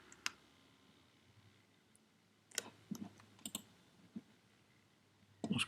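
A computer mouse clicks while pixels are selected in an image editor: a sparse run of close, crisp clicks, one early, a quick cluster in the middle and a final pair, with no talking.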